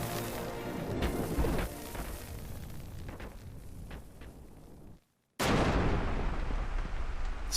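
In Final Fantasy XII The Zodiac Age, blasts blow up a pathway and set it on fire, heavy booming crashes with rumbling debris, then a short silence before a loud sustained roar.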